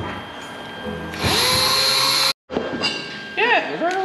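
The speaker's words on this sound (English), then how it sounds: "Here, Jack, polish the rod a little more." A power tool whines loudly for about a second while polishing a metal rod for a homemade tuck shrinking tool, stops abruptly, and is followed by rising and falling tones and shop noise, with people talking.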